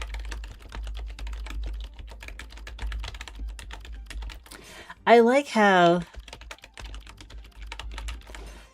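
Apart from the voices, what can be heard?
typing on a computer keyboard in a typing game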